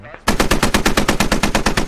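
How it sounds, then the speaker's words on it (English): Automatic gunfire in the tactical shooter video game Squad: a loud, rapid burst of machine-gun shots in a steady rhythm, close by, with no talk over it. "Oh, that actually could have been Scottish shooting there"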